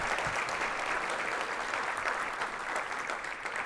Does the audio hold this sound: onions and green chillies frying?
no